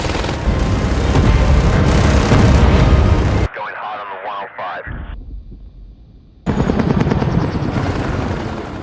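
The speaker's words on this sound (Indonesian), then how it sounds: "Dari sana mereka semua diangkut menggunakan heli ke bandar udara." A helicopter airlifting people to an airport, its loud rotor roar and engine drone filling the opening seconds, then cutting to quieter shifting sounds before the heavy rumble returns, with a voice speaking over parts of it.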